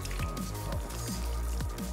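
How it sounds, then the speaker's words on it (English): A pot of green chili chicken soup gets stirred, giving soft wet squishing sloshes that repeat about every half second, close by, with no talking. "I'm gonna give it a stir."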